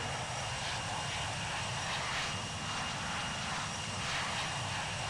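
Steady airplane engine roar in the Infinite Flight flight simulator as the aircraft accelerates down the runway with flaps at 26% and lifts off, a continuous broadband drone holding level throughout.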